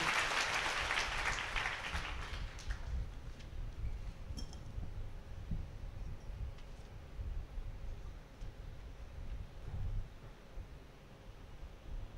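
Congregation at a Malayalam prayer service clapping hands forcefully, a dense burst of applause in the first two to three seconds that then fades into a quiet room hum.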